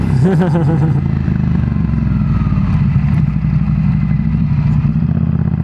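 A motorcycle engine runs loud and close throughout, throbbing steadily with a short burst of revving near the start and no break in the rumble.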